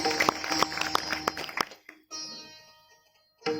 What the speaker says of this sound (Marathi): एकदा जोरदार त्यांच्याकरिता आपण टाळ्या वाजूया आणि आमच्या पंडितजींकरिता सुद्धा जोरदार टाळ्या वाजूया